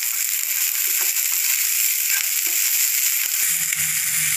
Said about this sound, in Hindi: अब हम इसमें डाल रहे हैं ये कुछ मटर, इसको भी हम अच्छे से भून लेंगे।